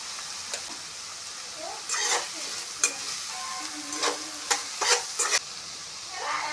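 Sliced onions with salt and turmeric sautéing in a pan, a low continuous sizzle broken by several sharp spatula scrapes and stirring clatters at close range.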